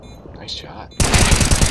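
Gunfire in a VR first-person shooter bomb-defusal match: after a quiet, faint first half, a loud dense burst of rapid automatic shots erupts and continues to the end.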